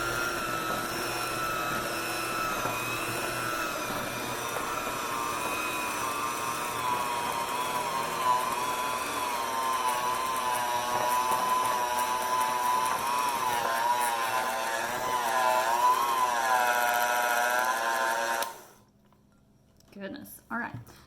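Electric mixer beating sourdough chocolate chip cookie dough, a steady loud motor whine with wavering pitch held for about eighteen seconds, then cutting off abruptly, followed by brief quieter sounds.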